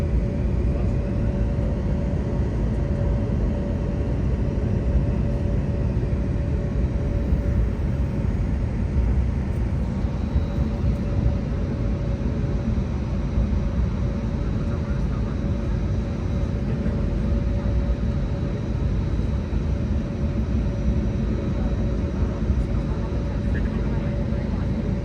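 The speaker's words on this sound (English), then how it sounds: "now the aircraft has arrived on its gate" An Airbus A321neo of Philippine Airlines sits at the gate after landing in Fukuoka, its engines and cabin air making a steady, loud low roar throughout, with faint voices underneath.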